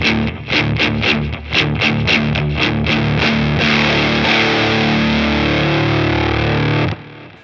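An electric guitar runs through a Danelectro Cool Cat Drive overdrive pedal, first in rapid repeated picked notes, then a sustained distorted chord that holds steady before cutting off; loud and close with no talk.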